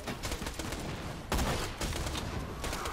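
Rapid pistol gunfire from a Borderlands 2 shooter game, dense overlapping shots forming a loud continuous fusillade, with a sharper burst about midway and no talk.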